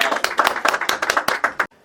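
An evangelical church congregation claps in a quick, rhythmic pattern of sharp, close, loud hand strikes that keeps a regular beat, then stops abruptly at the end.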